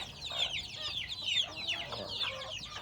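Rhode Island Red hens clucking among their chicks, with quick high peeping and chirping over low clucks, fairly close.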